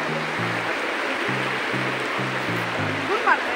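River in Mechuka, Arunachal Pradesh, rushing over black and white stones, a steady, loud broadband wash of water with a low rhythmic tonal pattern running beneath it.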